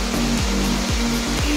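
Eruma Savadi waterfall roars steadily nearby, a dense rushing wash of falling water, with a faint repeating low mechanical hum beneath it.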